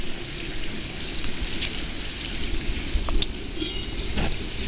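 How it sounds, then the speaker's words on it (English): Backyard pool waterfall fountain in Plano, Texas, running steadily with a continuous splashing rush of falling water and a few faint ticks and patters. "the waterfall's been running pretty well all day"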